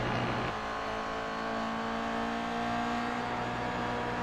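Several GR86 race cars circle a track in a sim racing game, engines droning steadily with layered revving and overlapping passes, loud and continuous throughout.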